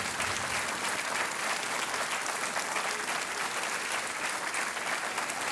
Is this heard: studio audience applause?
yes